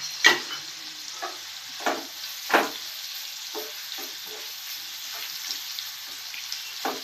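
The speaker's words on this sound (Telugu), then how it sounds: "కొంచెం ఆనియన్ ఫ్రై అవడానికి కొంచెం సాల్ట్ వేస్తున్నాను, త్వరగా ఫ్రై అవడానికి" Onions frying with salt in a pan for a fresh anchovy curry, a low steady sizzle punctuated by a series of distinct spatula scrapes and knocks, a few louder ones early on.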